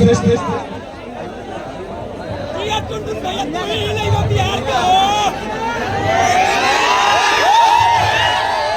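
A crowd at a village stage show during a tilak ceremony in Chenari, Rohtas, makes a loud, constant hubbub of overlapping voices and chatter, with shouts and cheers rising toward the end.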